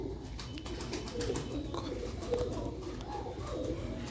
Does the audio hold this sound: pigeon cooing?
yes